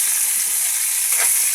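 Sliced ampalaya (bitter gourd) fries in a hot pan with a steady, bright, close sizzle that swells slightly near the end, with no talking.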